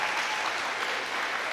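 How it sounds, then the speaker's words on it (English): A room full of people clapping at a prize day ceremony, a thick, continuous wash of applause at a moderate level with no breaks. "It's really good to be in a room where people are clapping again."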